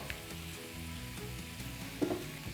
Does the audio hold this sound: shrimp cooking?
yes